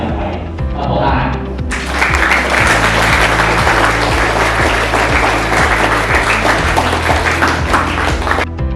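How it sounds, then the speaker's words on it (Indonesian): A school audience breaks into loud, dense applause after a short quieter stretch, many hands clapping steadily and close for several seconds under a low steady rhythmic thump. "Tepuk tangan."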